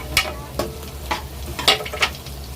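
Garlic and onion frying in a pan for a tilapia escabeche, with a soft sizzle under several sharp scraping strokes of a spatula at an uneven rhythm.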